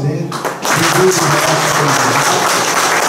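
A congregation in a church breaks into warm, sustained applause to welcome a music ministry, following a brief spoken word at the start.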